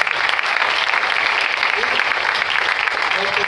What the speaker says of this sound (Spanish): Fuertes palmas al Rey de Reyes.